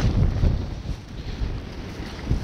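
Wind blowing across a lake during feeder fishing for bream, a steady rough buffeting rumble against the microphone with gusty swells throughout and no one talking.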